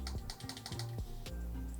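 Buttons on a NYXI Hyperion Pro Switch controller being pressed, a quick run of close, small plastic clicks, some crisp and some softer and mushier, with no voices.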